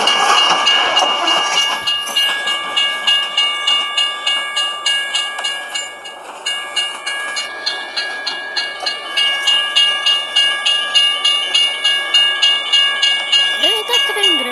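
A long train rolls past a level crossing in Euro Truck Simulator, a steady rhythmic clickety-clack of wagons over rail joints running loud and close for the whole stretch, with a brief rising tone near the end.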